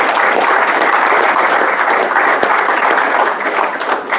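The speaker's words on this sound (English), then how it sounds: "So perhaps a hand of applause for everyone involved." Steady, dense applause from a conference audience after a session of paper talks and awards, loud and continuous throughout with no pauses.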